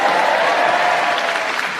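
A theatre audience in Newcastle, Tyneside, applauds and cheers in a dense, steady wash of clapping that carries on without a break from start to finish.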